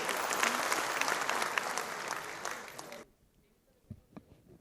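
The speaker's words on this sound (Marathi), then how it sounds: "टाळ्या वाजल्या पाहिजे." A crowd at a rickshaw union's student felicitation and award ceremony bursts into dense applause for about three seconds, then stops abruptly, leaving quiet room noise and a couple of soft knocks.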